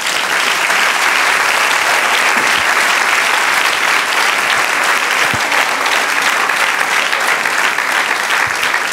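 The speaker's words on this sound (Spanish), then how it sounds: "Denle un aplauso al Señor." A church congregation applauds the Lord after a pastor's sermon, a loud, dense, sustained wash of clapping that fills the space evenly throughout with no pause.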